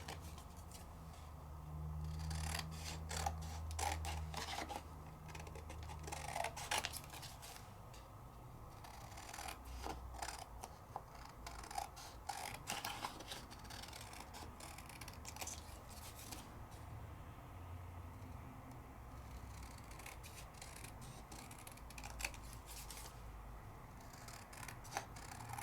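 Scissors trim card paper for a handmade interactive greeting card, making a long series of crisp snipping clicks, sometimes in quick bursts and sometimes spaced out, close up over a soft low background hum with no talking.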